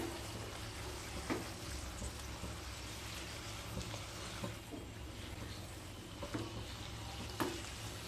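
Ridge gourd fritters being stirred in a pan give a faint, soft bubbling sizzle with a few light scrapes and taps scattered across a quiet, steady background.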